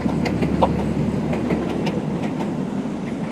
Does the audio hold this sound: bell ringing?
no